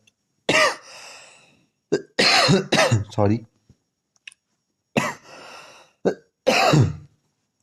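Several harsh coughing fits, close and loud, broken by pauses; a brief spoken word comes between them.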